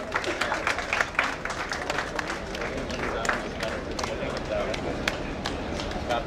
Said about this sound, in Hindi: तालियों के साथ, तालियां नहीं बंद होनी चाहिए